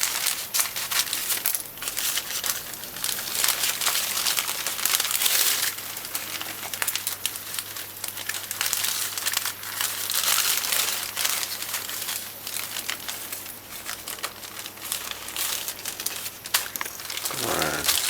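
Scissors snip and crinkle through greaseproof paper while an Easter bun is prepared in a home kitchen, a steady close crackling and rustling with short cutting sounds, no talk.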